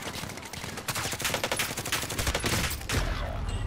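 Warzone gunfire crackles in fast, loud bursts, with repeated sharp shots layered over ongoing game noise and a heavier rumble near the end.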